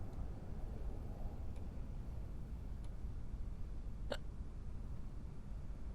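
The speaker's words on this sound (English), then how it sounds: "You have hiccups, I heard it." A single sharp hiccup in the video game Quarantine Zone pops out once over a low, steady background drone, with a couple of faint ticks earlier.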